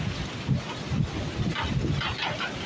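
Heavy, gusting typhoon wind roars steadily on a coast in the northern Philippines, buffeting the microphone, with a low rumbling surge underneath like waves pounding nearby.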